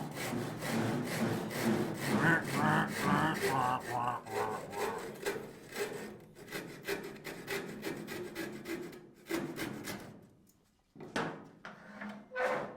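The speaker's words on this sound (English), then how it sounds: "Now we're going to cross cut it." Close, rhythmic rasping strokes of a hand saw cutting through wood, steady back-and-forth for several seconds, then a pause and a few final strokes.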